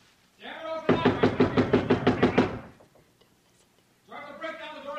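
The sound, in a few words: knocking on a door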